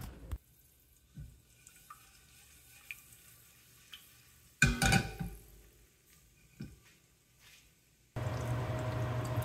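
Dried red chillies broken in two, a teaspoon of fennel seeds and curry leaves tipped into hot oil for a village-style mutton curry; a few faint clinks, then a sudden loud, steady sizzle near the end.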